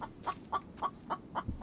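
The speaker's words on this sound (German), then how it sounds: "Irgendwo ist hier ein Huhn, was ich nicht sehe." Chicken clucking in a video game, six short rhythmic clucks at a steady pace, moderately quiet over a faint background hum.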